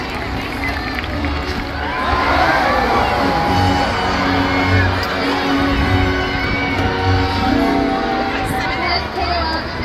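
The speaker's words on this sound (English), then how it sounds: "Everyone give a big round of applause for our volunteers!" An audience at a SeaWorld orca show applauds and cheers for volunteers, a loud continuous crowd roar of claps, whoops and children's shouts, with a voice over the din.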